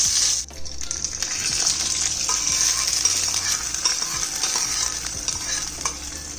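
A tempering of mustard seeds, dried red chillies and curry leaves sizzles and crackles in a pan, with stirring, as it goes into a tomato curry; steady close frying hiss with no talking.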